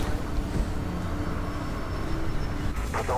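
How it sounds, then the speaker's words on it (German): Police helicopter in the video game Mirror's Edge, a steady, low rumbling rotor drone that stays loud and constant throughout, with no speech over it. "Die Cops schicken einen Helikopter."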